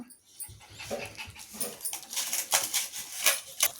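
A small puppy whimpering and crying in short, repeated whines and yelps, close by with no talking.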